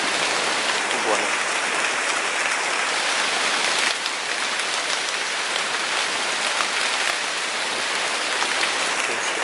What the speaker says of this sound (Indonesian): Lagi hujan soalnya.